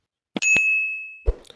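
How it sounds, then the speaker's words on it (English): A YouTube notification bell sound effect: a bright ding with a sustained ringing tone that fades over about a second, framed by short clicks and a brief thump afterward. "turn on the notification bell"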